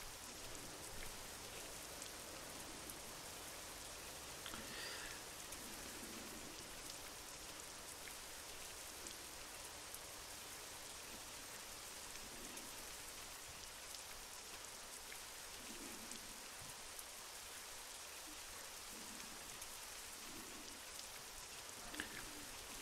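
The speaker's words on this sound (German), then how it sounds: "Wobei der Regen vom Sound her schon ganz schön leise kommt." Rain in the Euro Truck Simulator 2 truck-driving game, a very faint, steady hiss of falling rain that runs evenly from start to finish with no voices over it.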